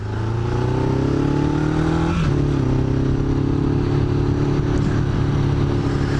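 A motorcycle cruises along on the first ride of the season, its engine droning steadily with one brief dip and climb in pitch as it shifts, loud and close with wind rush.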